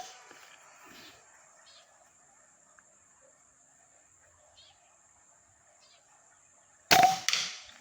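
A modified PCP air rifle fires at a target 51 meters away, a single sharp crack breaking a quiet outdoor background with faint insects, followed moments later by a second short impact burst.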